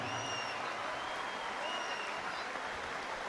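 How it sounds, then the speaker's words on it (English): Arena crowd applauding after a world super bantamweight title boxing bout in Dublin, a steady distant wash of clapping and cheering with faint whistles on top. "I'm sure you'd like to give a big round of applause for Dublin's Dunne"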